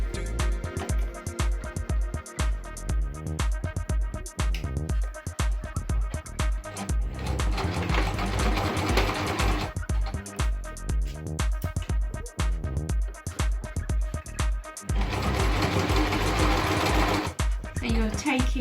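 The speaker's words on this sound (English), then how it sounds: "I'm going to machine it on the sewing machine" A sewing machine whirs in sustained runs of rapid stitching on a fabric face mask, pausing and restarting several times, with a voice speaking between and over the bursts.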